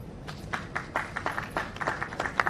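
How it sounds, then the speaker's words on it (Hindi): A steady patter of audience applause at a Haryana family identity card distribution ceremony in Panchkula, with individual claps clear and fairly close, and no talk over it. "जोरदार तालियां आप सबकी तरफ से।"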